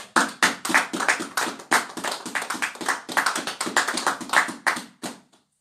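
A church congregation bursts into applause, a dense stream of hand claps lasting several seconds before tapering off, with no talking over it.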